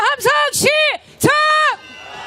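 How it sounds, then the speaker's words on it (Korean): Crowd of marchers at a candlelight rally letting out loud, drawn-out unison shouts in several bursts, near and strong, with brief gaps between the roars. "함성 시작!"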